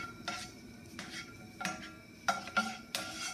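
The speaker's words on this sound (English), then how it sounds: "Now we gotta move the butter around." A spoon moves butter around a pan for scrambled eggs, giving several light metallic scrapes and clinks at uneven intervals, close and fairly quiet, with no talk.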